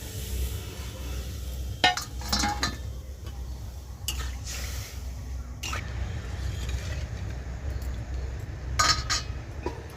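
Sugar is tipped from a cup into a pot of water to make syrup, with scattered clinks and scrapes of a utensil against the metal over a steady low background hiss, and no voices.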